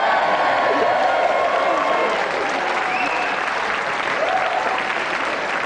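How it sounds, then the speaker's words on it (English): Studio audience applauding loudly and steadily throughout at a televised video-game show, with a few faint cheers mixed into the continuous clapping. "we'd just like to give a round of applause again for our loser, Sahid, and our winner, Annabel Croft."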